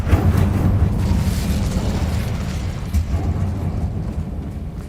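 The Incendio fire spell goes off in the video game Hogwarts Legacy with a loud, rumbling, roaring burst of flame that fills the whole clip and slowly fades.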